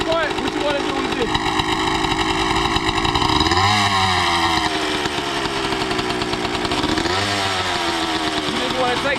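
A two-stroke dirt bike engine runs after a kick start, loud and close with a raspy, buzzing tone. It rises through two throttle blips during warm-up, and a voice talks over it.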